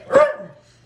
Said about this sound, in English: my dog Scooter barking in the background